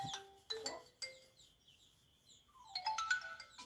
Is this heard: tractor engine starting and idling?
no